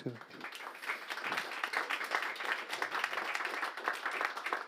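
Applause for a speaker at a French technology and citizenship conference rises after a brief opening voice, with moderate clapping continuing, fairly faint and distant.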